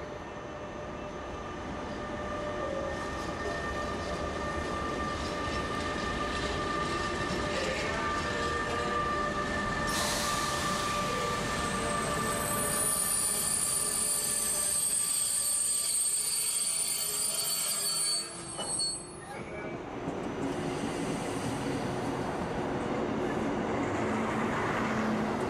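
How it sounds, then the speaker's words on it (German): A freight train rolls slowly into an old station platform at Würzburg, a long steady rumble of wagons with clacking wheels and rising high metallic squeals midway, loud and close throughout. "Der Güterzug rollt am alten Hausbahnsteig ein."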